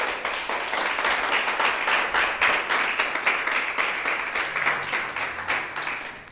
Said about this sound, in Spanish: Dale un aplauso a Jesús.